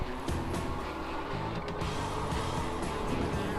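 A steady electric hub motor hum from a Meebike or Himiway Zebra moped-style e-bike that keeps running after pedaling stops, a continuous droning whir mixed with road and wind noise, fairly constant in level throughout.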